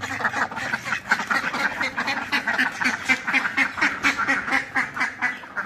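A flock of pet ducks quacks loudly and nearby as they are let out, with a rapid run of overlapping calls that rises and falls in quick pulses.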